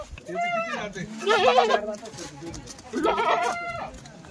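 Kathiawadi goats bleat loudly and close by in two or three drawn-out, wavering calls separated by short pauses, with faint background noise between them.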